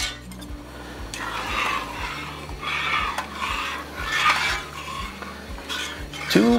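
Homemade seafood stock is ladled into a pot for an alligator sauce piquant, with a metal ladle clinking and scraping against the pot in a repeating rhythm over soft liquid sloshing, close and moderately loud.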